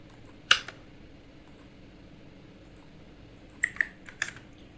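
Computer keyboard keys tapped while entering a command in drafting software: one sharp click early on, then a short quick cluster of three or four keystrokes near the end, close and fairly quiet, with near-silence between.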